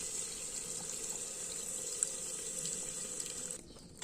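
A steady stream of water splashes into a pot of tamarind juice, running continuously and close by before abruptly cutting off near the end.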